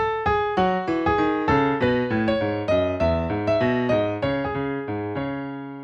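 A plucked bass walks steadily note by note beneath bright strummed chords in a song, with an even, bouncing pulse throughout.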